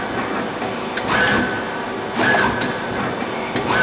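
A Mazak QTN 100 CNC lathe spindle spinning at 2,500 RPM gives a steady loud mechanical whir, with two brief swells in the hum and faint high whines.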